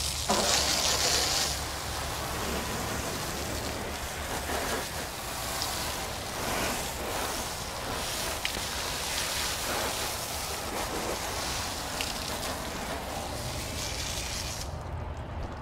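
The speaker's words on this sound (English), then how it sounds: "Now I'm going to rinse it off." Steady rush of hose water spraying over the front of a Newmar RV, rinsing soap and loosened bug splatter off, a continuous close hiss that holds for the whole stretch and cuts off at the end.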